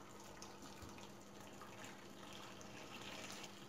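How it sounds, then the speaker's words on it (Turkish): Hot water pours in a steady, faint gush over eggplants laid in a pan. "Daha hızlı olabilmesi için sıcak su ekliyorum."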